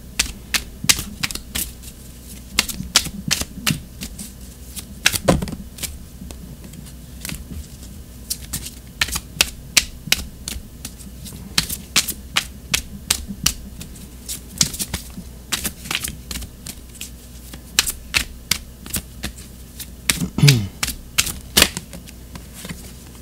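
Tarot cards are shuffled and drawn at a table, a run of crisp close flicks and riffles with scattered sharper snaps, steady and unhurried, with no talking.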